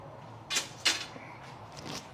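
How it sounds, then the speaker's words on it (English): Blown glass vase knocked off the puntee during glassblowing: two sharp, bright cracking knocks about a third of a second apart, close and fairly loud, followed by fainter scraping taps. "So you just knock it off like that."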